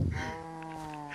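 One drawn-out, wavering bleat from a sheep in Minecraft, clear and moderately loud, held for about a second with no talking.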